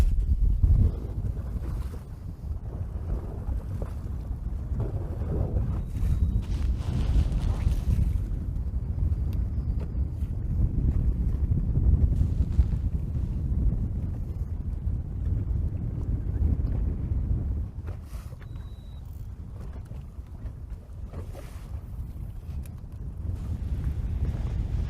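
A fishing boat out on Saginaw Bay, Michigan, during a fishing tournament, running over the water with a steady low engine rumble and heavy wind buffeting the microphone throughout, easing slightly toward the end.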